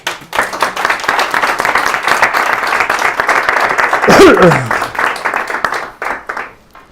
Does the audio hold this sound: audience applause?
yes